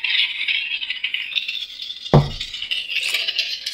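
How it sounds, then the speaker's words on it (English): The pommel of a Saberforge crossguard Neopixel lightsaber with a Proffie board is unscrewed over a continuous high electronic hum, with one sharp metallic clink and rattle partway through. "we'll come over here and unscrew the pommel"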